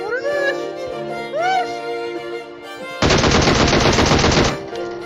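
PUBG Mobile gunfire aimed at the player: after a few seconds of tonal sounds, a loud burst of rapid automatic fire starts abruptly and holds for about a second and a half before stopping.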